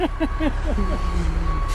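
A truck delivers a load of fill for a pole barn pad, its reversing beeper pulsing steadily over a low diesel engine rumble close by.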